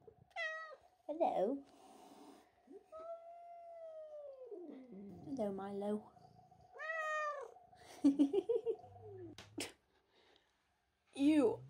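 A cat gives several drawn-out, wavering meows, some plaintive and howl-like, while a person speaks softly to it between the calls.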